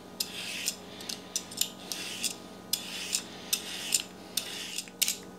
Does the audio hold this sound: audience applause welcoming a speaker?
no